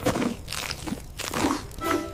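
Crunchy corn being bitten and chewed in a cartoon gives several close, crisp crunches in quick bursts over a couple of seconds, with no talking.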